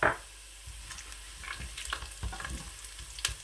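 Cumin seeds dropped into hot oil with red onions already fried deep red, for a mutton rice dish, crackling and sizzling softly with occasional scraping stirs in a pan.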